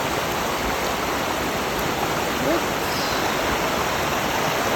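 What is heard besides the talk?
creek flowing high like a river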